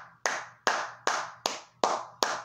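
Six loud, sharp hand claps at a steady, unhurried pace, each a crisp close crack that rings briefly and decays before the next, with no talk over them.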